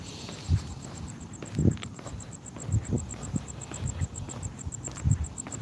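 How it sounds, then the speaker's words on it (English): Crickets chirp at night outdoors in a steady, high, continuous trill that runs through the whole stretch, with soft low rustles and footstep-like thumps beneath and no talking. "You can hear the crickets."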